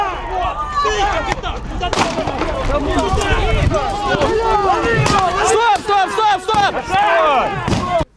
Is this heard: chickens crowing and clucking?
no